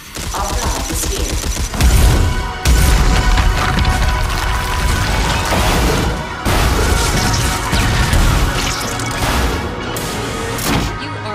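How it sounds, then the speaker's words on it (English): Loud, dense bursts of rapid gunfire in the video game Red Faction: Armageddon, with crashes and impacts, continuous and close, with sharp breaks between volleys and no talking. "Just listen for the gunshots."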